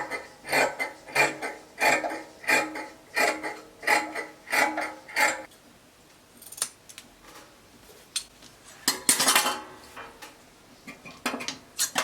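Scissors cutting the bottom part of fabric for a one-shoulder flare circle dress: a steady run of about a dozen crisp, rhythmic snips close by, then a pause and a brief, louder rustle of handled cloth.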